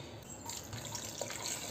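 Water pours steadily into a pan of chicken for frying, a continuous close splashing trickle heard alone.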